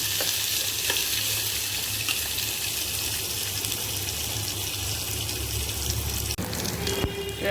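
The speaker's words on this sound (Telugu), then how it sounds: "మళ్ళీ ఫ్రై చేసేద్దాం" Peanuts, onion and green chillies fry in oil, producing a loud, constant close-up sizzle with steady bubbling, a few light utensil taps, and a sharp clunk near the end; no one speaks.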